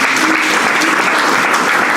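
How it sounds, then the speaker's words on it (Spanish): A church congregation claps together at a Sunday worship service, a dense, steady wash of applause filling the room from start to finish with no voices on top. "Regálale un aplauso al Señor."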